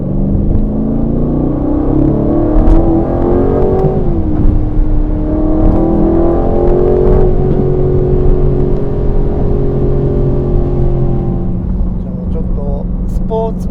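Aston Martin Vantage pulling hard in its full 665 hp mode on a Tokyo street, a loud engine drone rising in pitch, dipping at a gear change and climbing again, heard from inside the car with someone talking over it.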